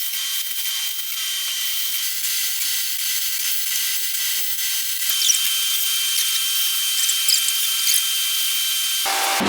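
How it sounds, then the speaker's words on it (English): A power drill drives self-tapping screws into pre-drilled holes in a steel door, heard as a steady close, loud high-pitched whir that runs almost continuously and cuts off abruptly at the end. "we're going through with these self-tapping screws into the pre-drilled holes"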